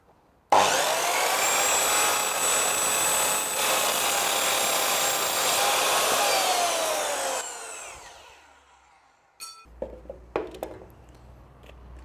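A saw cuts through the damaged end of an anodized Lauxes grate: a loud, steady, grinding whine runs for about seven seconds, then cuts off and is followed by a few light metallic knocks and clatters.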